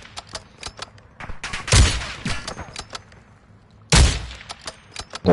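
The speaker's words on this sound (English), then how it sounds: "Somebody's shooting at me." Gunfire aimed at the player in a military shooter video game: scattered sharp shots and a couple of heavy, booming impacts at close range, spaced irregularly over a quiet background with no talk.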